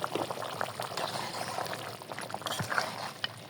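Soaked potatoes drop into a simmering country-chicken curry, the broth bubbling and sloshing steadily throughout with a soft splash partway, close and moderately loud, no voices.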